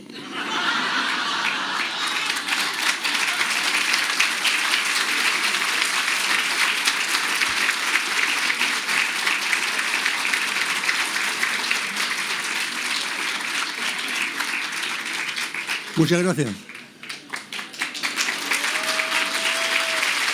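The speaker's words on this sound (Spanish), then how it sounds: "Un aplauso y por supuesto de pie" A conference audience applauds in a steady, dense wash of clapping that runs throughout, with scattered laughter and a brief voice of thanks near the end.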